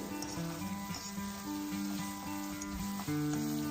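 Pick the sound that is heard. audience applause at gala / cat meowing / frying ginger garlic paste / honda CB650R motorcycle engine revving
frying ginger garlic paste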